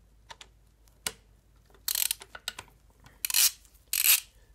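A socket ratchet on an E10 socket breaks loose a screw on the air filter housing of a Mercedes-Benz OM642 3.0L V6 diesel, giving close, sharp clicking bursts in a few irregular runs with short pauses between.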